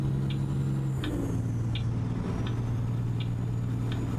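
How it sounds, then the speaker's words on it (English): Heavy trucks drone past in American Truck Simulator, a steady loud low engine rumble with periodic faint ticking clicks, like turn signals or rain on the cab, and no voices. "I am not a fan of how all these trucks are passing us"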